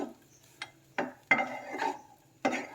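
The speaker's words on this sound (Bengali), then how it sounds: "সব কিছু ভালোভাবে মিক্সড করে নেব।" A spoon stirs and mixes chirer polao, flattened rice pulao, in a pan: about five separate scraping strokes, close and fairly soft, with short pauses between them.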